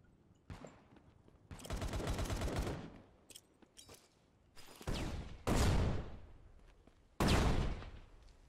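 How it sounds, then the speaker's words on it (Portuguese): Gunfire in the tactical shooter Tip of the Spear: Task Force crackles in several bursts, some long automatic strings and others short, loud and echoing, separated by quieter gaps. "Eu tô escutando os tiros, mas não sei da onde vem."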